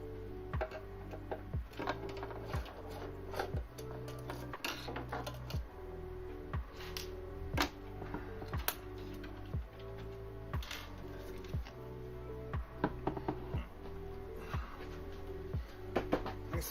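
A 3D printer running during an LDO Switchwire kit build, giving a steady mechanical whir with rapid repeating ticks and stepper-motor pulses, fairly quiet and continuous with no talking.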